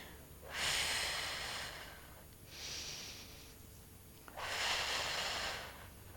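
Breathing during a Pilates exercise: three long, airy breaths, two strong ones with a softer one between, close and alone with no talking.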